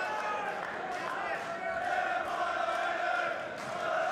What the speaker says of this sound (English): They have come out in force to cheer on their hometown boy.